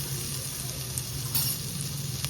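Crushed ginger and garlic sizzle steadily in hot oil in a pan while making momos, a continuous close frying hiss with faint scrapes of stirring.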